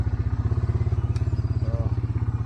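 Four-wheeler ATV engine idling and chugging as it pushes through deep floodwater on a farm, a steady rapid low pulsing throb, close and continuous with a faint splash or clatter.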